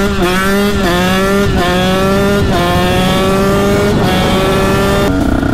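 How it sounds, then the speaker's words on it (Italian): A KTM SX 125 two-stroke dirt bike engine revs hard and high-pitched, climbing in repeated bursts with brief drops between, loud and close, no voices. "come gira questo motore Che motore!"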